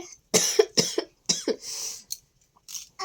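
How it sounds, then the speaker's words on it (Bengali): A sick child coughs in a home kitchen, a run of sharp, close coughs in separate bursts with short silent gaps between them. "ছেলেরও তাই, কাশি হয়েছে"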